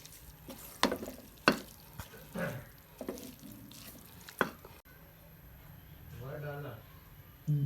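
A spoon clatters against a pot while carrot halwa is stirred with milk, giving several sharp knocks early on and then a softer wet swirling, with someone talking over it.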